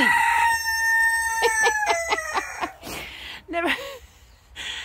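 Rooster crowing loudly and close in a backyard chicken coop, a long stepped crow followed by chickens clucking and squawking nearby, with a person speaking briefly underneath.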